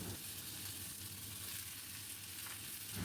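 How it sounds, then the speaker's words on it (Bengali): Vegetables for a prawn mixed-vegetable dish, including pumpkin, yardlong beans and potato, sizzle in oil in a pan, a steady close crackling hiss with no talk. "প্রত্যেকটা সবজি দেব আর অল্প অল্প করে একটু ভেজে নেব"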